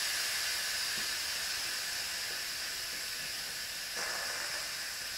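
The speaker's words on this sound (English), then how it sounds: "the steam is obviously coming out" Steam hissing out of the pressure release valve of an Instant Pot Duo Evo Plus electric pressure cooker, a steady quiet hiss that carries on throughout with no talking.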